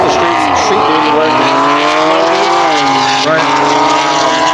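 A Dodge Hellcat with a near-Demon engine, a 4.5 supercharger, about 20 pounds of boost and E85 fuel runs loud and steady, its engine pitch rising and falling in smooth sweeps throughout.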